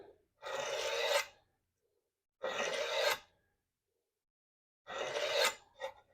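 A scribe scratches a line across a workpiece while building a bandsaw roller feed table: three separate close, quiet rasping strokes, each about a second long, with silent pauses between them.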